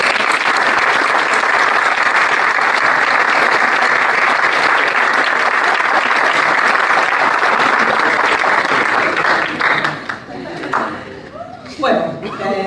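Dense, sustained audience applause for Mr. Suber at a science communication talk, loud and steady for about ten seconds before thinning out, with a few voices and a chuckle at the end.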